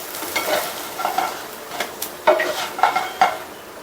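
A pancake flipped and pressed in a frying pan: soft sizzling with scattered scraping and tapping of a spatula against the pan, several sharper knocks near the end, close and without talking.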